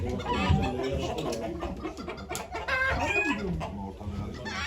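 Several roosters at a chicken auction in Ankara cluck and squawk close by, with overlapping calls rising and falling in a busy farmyard chorus.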